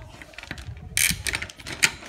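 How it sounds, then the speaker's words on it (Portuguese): A processor is lifted out of its motherboard socket with a handful of small, close mechanical clicks and light plastic clatter, quiet and brief. "Vou desmontar aqui o processador, né? Soquete do processador para pegar"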